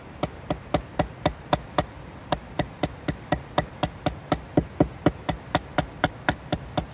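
A Manganas Steel Concepts Caimano folding knife is whacked repeatedly to test its lockup, giving about twenty-five sharp, evenly spaced knocks, close and clear, with nothing else heard.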